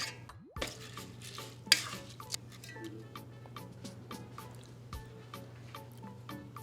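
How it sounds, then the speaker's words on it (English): Bouillon and salt stirred into rice: soft, quiet spoon clicks and wet ticking taps in a steady rhythm over a low background hum, close and faint, with no voices. "add 1/2 a teaspoon of bouillon, salt to taste, and then we're gonna stir all this in."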